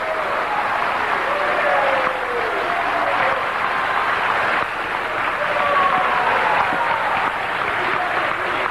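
A wrestling crowd at a CZW show gives a sustained ovation, broad roaring applause and cheering filling the arena while a commentator speaks briefly over it.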